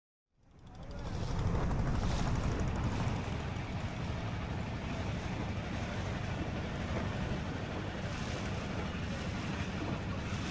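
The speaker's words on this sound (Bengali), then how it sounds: "ইতিমধ্যে আমাদের হাউস বোটটি রওনা দিয়েছে।" Houseboat under way on Tanguar Haor wetland in Bangladesh beneath a cloudy sky, with a steady loud engine drone and broadband wind and water rush that swells in over the first second and then holds constant, no voices.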